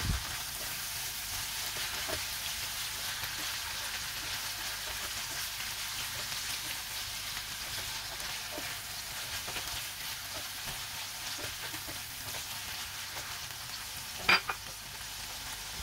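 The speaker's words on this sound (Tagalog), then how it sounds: "Ilagay na natin yung marinated beef guys. Tapos, haluin lang natin." Marinated beef for Korean-style japchae frying in a pan, a constant soft sizzle and hiss with occasional light stirring taps and one sharp clink of a utensil near the end.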